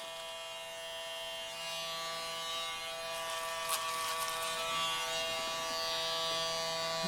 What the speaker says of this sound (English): whatever straggles that the foil shaver catches, you could actually hear it